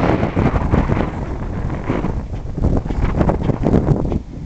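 Wind buffets an outdoor microphone in Lisbon with steady, loud, roaring rumble and gusty fluctuations throughout, no voices.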